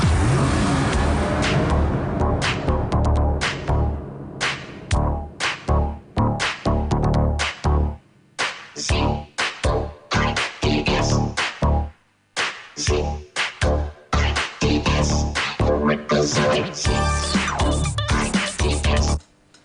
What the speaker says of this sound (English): let's rev up in 3, 2,